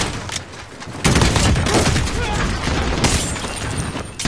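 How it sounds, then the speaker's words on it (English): Dense gunfire rattles in a Call of Duty Modern Warfare Infection match, with loud overlapping bursts and sharp cracks close up and continuing through most of the moment. "I was shooting everyone!"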